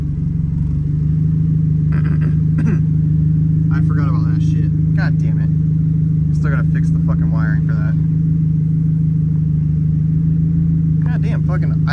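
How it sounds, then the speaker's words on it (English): A car engine idles steadily up close during a home battery-relocation job on a project car, its even low hum running throughout while someone talks over it. "It never idles this good."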